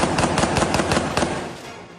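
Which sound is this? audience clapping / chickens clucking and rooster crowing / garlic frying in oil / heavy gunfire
heavy gunfire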